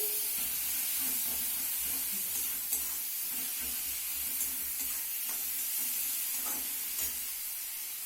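Carrots, beans and spices sauté in a pan with a soft, continuous sizzle, punctuated by intermittent scraping and tapping of a spoon as the mixture is stirred, fairly quiet and steady.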